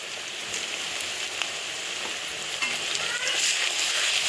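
Steady crackling sizzle of ginger-garlic paste frying in hot oil, with occasional stirring scrapes; continuous and close, no voices.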